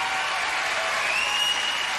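Studio crowd at a classic UK Gladiators final applauding a bout, with dense, sustained clapping throughout the short stretch and faint crowd noise mixed in.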